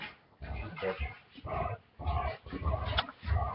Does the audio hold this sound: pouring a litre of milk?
no